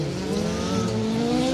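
A Type R rally car drives a gravel stage at a circuit rally championship, its engine a loud, sustained drone that rises slightly in pitch as it passes close by, with steady road and tyre noise.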